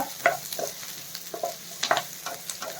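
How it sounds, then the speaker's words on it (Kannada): Onion and garlic frying in a pan for stuffed ridge gourd, with a steady close sizzle broken by irregular bright scraping stirs from a spoon. "ಈರುಳ್ಳಿ ಮತ್ತು ಬೆಳ್ಳುಳ್ಳಿ ಫ್ರೈ ಆಗಿದೆ"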